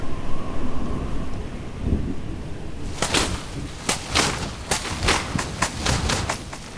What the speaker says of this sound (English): Afternoon clouds roll in across the forest, setting the stage for a downpour.